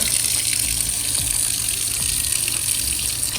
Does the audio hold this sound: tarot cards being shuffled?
no